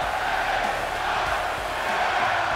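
Virtual arena crowd in WWE 2K24 roaring steadily for LA Knight's ring entrance, a dense, continuous wash of cheering and yelling at even loudness throughout, with no individual voices standing out.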